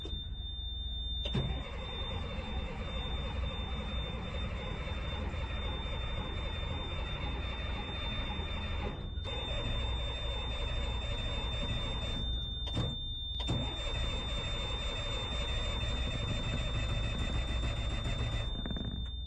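A 6x6 military wrecker's engine cranks over and over while a fuel issue keeps it from catching, with a steady whining starter drone, two brief pauses, a high electrical tone and no talk.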